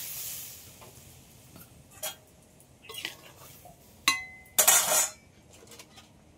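Metal clinks and clatters of a lid and utensils on a pot of rice cooking with water, a few sharp knocks building to a brief louder rattle near the end, close and without talk.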